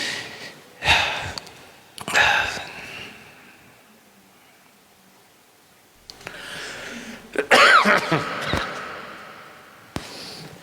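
A man giving a morning religious lecture coughs and clears his throat in several harsh bursts, two close together, then a longer rasping fit and a final short cough, with quiet gaps between.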